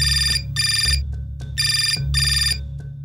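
A telephone rings close and loud in bright electronic bursts, four rings in a steady pattern with short pauses between them, over a low background hum and no talking.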